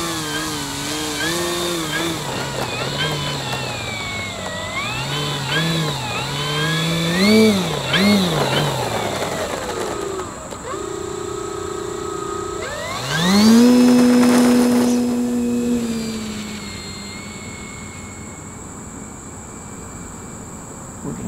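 An E-Flite Carbon-Z Cub SS 2.1m electric RC plane's motor whines with rising and falling throttle sweeps, then drops away as it is switched off, a loud buzzing drone fading to a faint hum.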